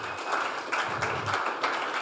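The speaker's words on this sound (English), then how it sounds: "round of applause, Roger" A small group at a team meeting gives a short round of applause for Roger: a brief burst of uneven hand claps, fairly close, lasting about two seconds.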